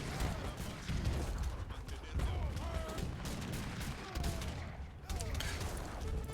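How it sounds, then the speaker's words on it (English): Artillery and light cannon fire from a Swedish army attacking Mayans in an Age of Empires battle, with repeated booming shots and scattered crashes forming a dense, continuous barrage. "deal with Swedish artillery spam as Mayans, considering the light cannons trained rather slowly"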